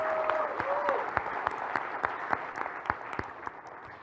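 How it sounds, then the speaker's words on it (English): An audience at a Realme 3 phone launch event applauds designers with steady clapping, moderately loud and sustained throughout, a faint voice gliding briefly near the start. "I think we should give a big round of applause for these designers."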